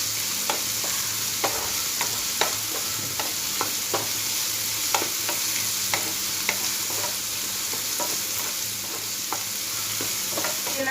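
Onions sautéing in a pan over a high flame make a steady, close sizzle, with frequent sharp clicks and taps from stirring scattered throughout; no one talks.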